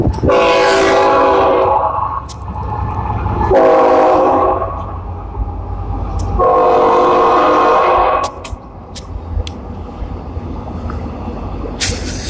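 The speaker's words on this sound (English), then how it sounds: "Slocky, you got this train coming." A loud train horn blares in three long blasts over the steady rumble of a passing train, with rail clatter continuing after the horn stops.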